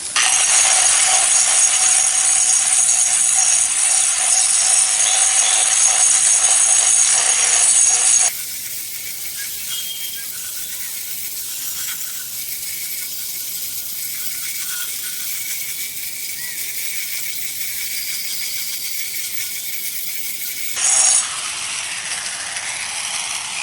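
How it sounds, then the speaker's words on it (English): A 4-inch turbo diamond cup wheel on an angle grinder wet-grinding a concrete surface, a loud steady high-pitched whine that drops to a lower, duller grinding hum partway through, then briefly shifts again near the end, no speech. "So here we go with a wet grind."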